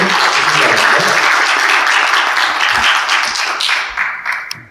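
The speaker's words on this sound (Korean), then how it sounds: "큰 박수로 환영해 주시기 바랍니다." Loud, dense applause from a seminar audience welcomes a speaker at a healthcare technology talk. The clapping runs steadily, then thins and fades out at the end.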